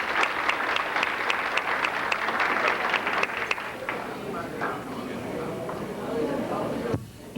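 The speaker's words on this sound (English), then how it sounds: "we can give these people a little round of applause" An audience at a class reunion dinner claps in a brisk burst that thins out and fades over several seconds, with some chatter underneath as the clapping dies away.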